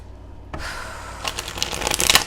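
A deck of cards is shuffled close up, starting abruptly after a brief quiet moment, with a rapid riffling flutter that builds louder toward the end.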